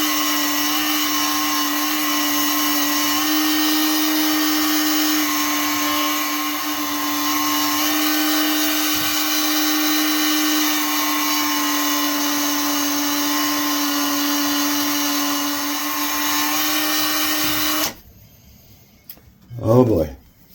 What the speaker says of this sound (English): let's do it on the Dremel and use a polishing wheel